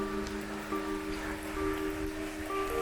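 Heavy rain pours down at midnight, a dense continuous patter on surfaces with steady hiss throughout and faint tonal hum in the background.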